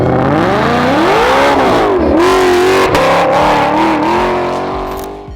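A supercharged 1000+ horsepower 2020 Shelby GT500 running on E85 accelerates hard, its loud engine note climbing and dipping steadily through gear changes as it roars continuously, close by and without voices.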